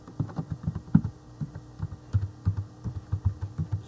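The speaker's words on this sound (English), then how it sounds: "I'm going to type in" Close, quick typing on a computer keyboard: bursts of crisp key taps with short pauses between them, alone and with no talking.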